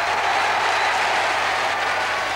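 A football crowd of about 6,500 at East End Park applauds in a dense, steady wash of clapping that holds constant from start to finish.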